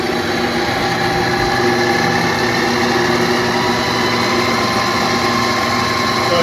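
Cummins Big Cam diesel engine with a rebuilt PT pump, in an Autocar construction truck, held at raised RPM: a loud, steady, close droning roar with no pauses.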